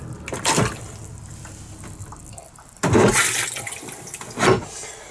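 A chemical toilet in a Chausson motorhome flushes in short, close rushes of water, with a quieter trickle between the bursts and no talking.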